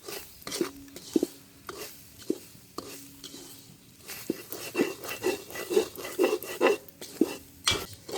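Ingredients are dry roasted in a pan in a village kitchen while a utensil stirs and scrapes, with repeated close clinks and scraping strokes and a faint sizzle; soft speech is heard now and then.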